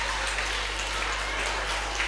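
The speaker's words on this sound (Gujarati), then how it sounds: "ચારે ટીમ માટે તાળીઓ થઈ જાય." Applause for four teams at a school quiz competition for grade 4 and 5 children, a steady wash of clapping from a crowd throughout, dense and fairly loud with no single claps standing out.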